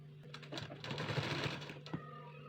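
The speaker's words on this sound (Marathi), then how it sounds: "याच्यावर ठेवून असं व्यवस्थित याच्यावर शिलाई मारून घ्यायची आहे" A sewing machine stitches a folded fabric strip for a sleeve, its motor whirring in a close, continuous run that swells in the middle and ends with a brief final burst.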